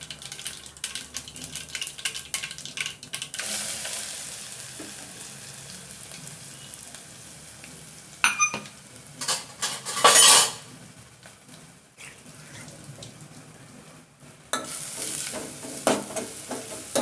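Cumin seeds fry in a little hot oil with a soft, continuous sizzle, broken by sharp metallic clinks and scrapes of a spoon stirring the pan, the loudest bursts near the end.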